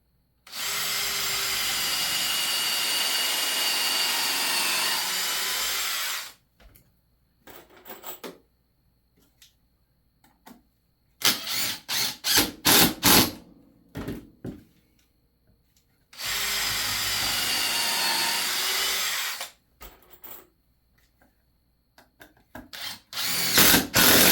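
A power drill boring pilot holes into a very small piece of scrap wood for a birdhouse, two long steady whirring runs of about six seconds, each followed by bursts of clattering and handling noise, close up and loud.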